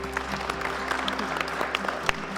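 An audience at an International Women's Day felicitation ceremony applauds to welcome an honoree, a steady wash of clapping from a moderate distance with an electrical hum running beneath it.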